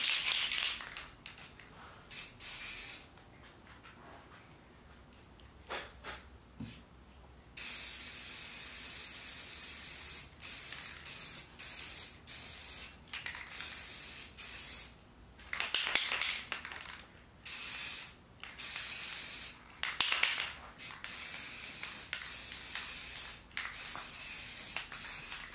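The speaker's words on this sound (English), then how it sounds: "And it's gonna be three coats of three cans of paint." Aerosol paint cans spray a tabletop in repeated long hissing bursts separated by short pauses, close and loud, with no talking.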